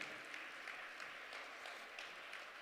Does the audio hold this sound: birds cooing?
no